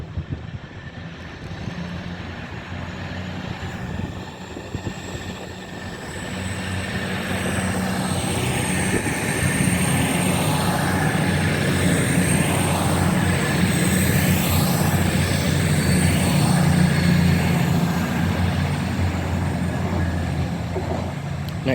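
A passenger train pulls out of Leicester station as a steady, broad rumble that builds after the first few seconds and holds loud with a low engine drone and faint high whine, with no talk.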